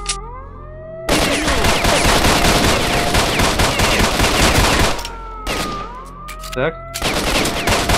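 Rapid automatic gunfire from a S.T.A.L.K.E.R. Shadow of Chernobyl firefight rattles loudly and almost continuously, with brief gaps between bursts, while someone speaks briefly over it.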